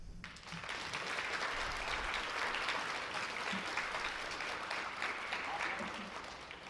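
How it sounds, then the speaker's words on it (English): An audience at a student innovation pitch event at a Northern Ontario college applauds steadily, dense even clapping sustained from start to finish at moderate room distance, with faint voices mixed in. "big round of applause for Isabel McLeod"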